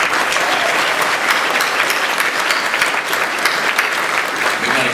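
A summit audience in a hotel ballroom breaks into sustained, loud applause, a dense wash of clapping hands that carries steadily from start to end.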